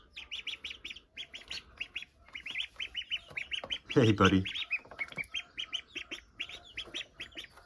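Small chicks on a farm peep in rapid, high bursts close by, chirping in uneven clusters throughout, with someone speaking briefly in the middle.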